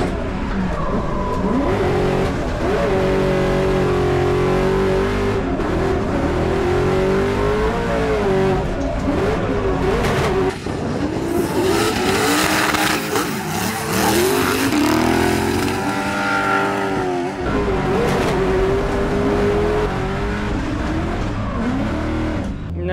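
A drift competition car with a technical fault revs loudly and continuously, its engine pitch rising and falling with tire squeal mixed in.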